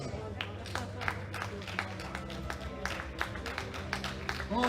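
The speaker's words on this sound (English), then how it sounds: "We speak applause of the audience." Faint, scattered applause comes from the audience at a world classic powerlifting championship. Sparse claps sound from a distance under an announcer speaking over a PA.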